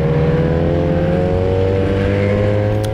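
Racing motorcycle accelerating hard out of a hairpin during an IDM race, with a loud, close, continuous engine drone held at high revs for the whole stretch.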